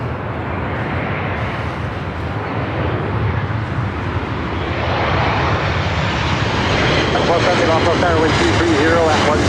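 An Alaska Airlines Boeing 737-900ER lands at LAX, its engine roar swelling louder and closer throughout, with talk running over the noise.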